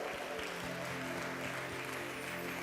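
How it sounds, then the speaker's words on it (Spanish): A church congregation claps loudly at a pastor's call during a Spanish-language service, a dense steady wash of hands sustained under held musical tones for the whole stretch. "Den un aplauso bien fuerte."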